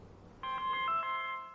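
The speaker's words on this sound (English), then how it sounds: "Sorry, is that your phone?" A telephone rings once with a bright electronic warble, a short tonal burst in a quiet room.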